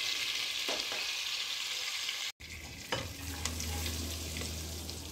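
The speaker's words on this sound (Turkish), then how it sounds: "Tenceremde ben bunu yağım kızdıktan sonra birazcık kızarmasını sağlayacağım." Potatoes fry in hot oil in a pot with a soft steady sizzle, interrupted once by a brief gap and followed by light stirring clatter, with no talking.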